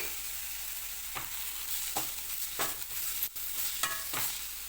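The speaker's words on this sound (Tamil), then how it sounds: "ஒரு நிமிஷம் அப்படியே லோ ஃப்ளேம்லேயே வச்சு நல்லா வதங்கட்டும்" Large gooseberries sautéing on a low flame with salt, a soft, constant sizzle broken by a few distinct scrapes of a spoon stirring, close but quiet.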